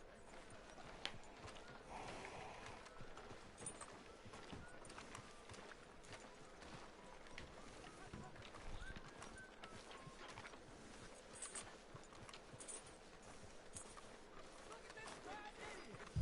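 Horse hooves clip-clop steadily at a walking pace in Red Dead Redemption 2, faint and rhythmic beneath character dialogue.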